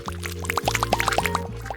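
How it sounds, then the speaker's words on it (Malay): Colored dough mixture pours into a mold, giving a run of wet plops and bubbly glugs close by, with a steady tonal hum underneath. "Sekarang, kita tuang semua ke dalam acuan."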